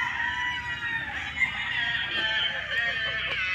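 Chickens cluck steadily while a rooster crows over them, a busy, close farmyard chorus with no talking.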